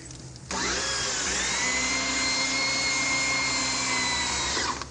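A high, steady mechanical whine starts abruptly and runs continuously, like a motorized drill boring, with a slight pitch shift partway through, then cuts off.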